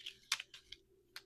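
Small handmade laminated cards are shuffled by hand, producing a few quiet, crisp plastic clicks and slaps in quick, uneven succession.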